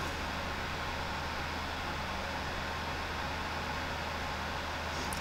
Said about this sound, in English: if you hear a loud whining noise, it's because the microphone is next to the DVD burner